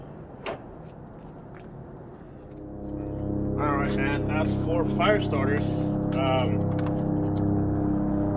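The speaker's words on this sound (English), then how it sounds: "that's a helicopter, by the way." A helicopter passes overhead outdoors, a low engine drone that swells from faint to loud and stays steady, while someone talks over it.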